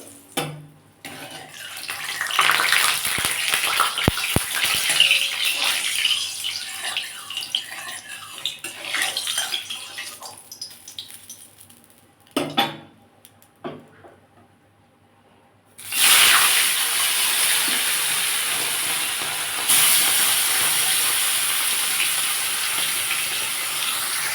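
Bata fish frying in hot salted oil in a wok gives an uneven spitting and hissing that quiets, then bursts into a loud, steady, bright sizzle for the rest of the time, with no voices.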